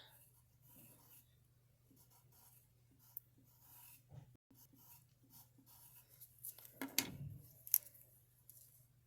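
Pencil sketching a gingerbread face on paper: faint, scratchy strokes and light rubs, quiet and intermittent, growing a bit busier with a few sharper scrapes over a low steady hum.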